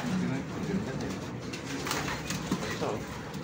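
A gift pet pigeon or dove coos softly a few times, close by, while people talk in Filipino over it.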